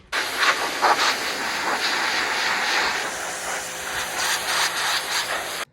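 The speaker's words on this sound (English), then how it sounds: "took it outside, pressure washed it down a bit" A pressure washer sprays down a washing machine drum outdoors, giving a steady, loud hiss with ripples in the spray as the jet moves across the surface, uninterrupted for the whole stretch.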